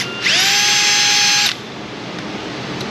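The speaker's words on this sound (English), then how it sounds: "Let's polish off some of this rust right here." A power drill with a small abrasive bit spins against rust on a Chevy Cobalt wheel hub. It gives one loud, close, high whine of just over a second, then cuts off, leaving only low room noise.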